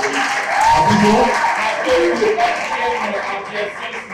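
Studio audience of students applauding on a French television set, steady clapping throughout with voices talking over it.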